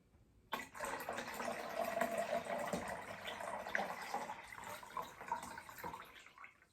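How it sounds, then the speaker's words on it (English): Water runs from a tap into a bowl, a steady rushing flow starting abruptly and continuing for several seconds at moderate, close range with no talk. "I need to fill up my bowl of water."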